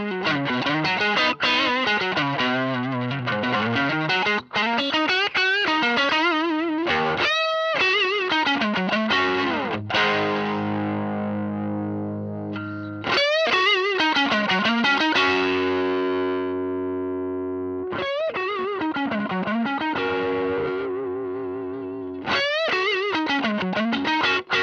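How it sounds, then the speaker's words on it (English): Overdriven electric guitar through a Marshall Origin 20C amp with the tilt control in play, gritty distorted riffs and sliding lead lines in bursts, with held chords ringing out between phrases and no voice over the playing. "what we're doing now is overdriving the input signal of the guitar and using the tilt"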